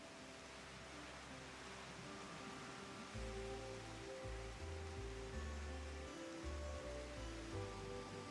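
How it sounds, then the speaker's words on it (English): Rain falls in Final Fantasy XIV, a soft, even hiss beneath a low, pulsing background music track, steady throughout with no voices. "And it's raining!"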